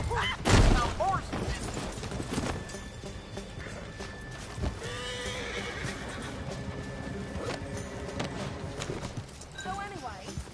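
Horses in the video game Red Dead Redemption 2 whinny loudly at the start, and hoof clip-clop and game ambience continue steadily under the neighing.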